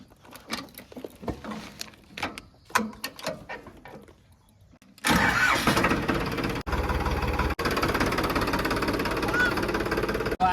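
A farm tractor engine starts after several seconds of scattered clatter and handling noises, then roars into a loud, steady, close running drone that continues to the end.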